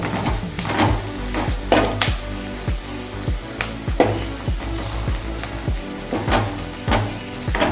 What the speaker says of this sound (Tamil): வெங்காயம் நல்லா பொன்னிறமாக வர வரைக்கும் வதக்கிட்டு